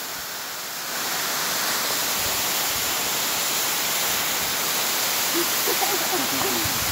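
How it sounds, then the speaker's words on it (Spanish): A waterfall at El Aguacero in Chiapas pours down onto a person's back, giving a steady, loud, broadband rush that swells in after the first second and holds constant, with faint voices briefly underneath near the end. "la fuerza de la caída del agua"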